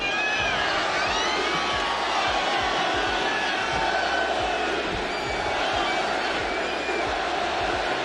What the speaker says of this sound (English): The sell the team chants that were murmured throughout the game have grown more intense and more unified.